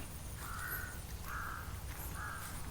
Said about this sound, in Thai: เสียงนกกา